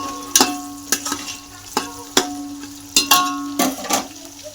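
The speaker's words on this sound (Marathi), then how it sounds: "कांदा तळते पटापट बघा" Onions frying in a pan for biryani masala, loud close sizzling punctuated by about eight sharp metallic scrapes and clinks of a spatula against the pan at an uneven rhythm, no speech.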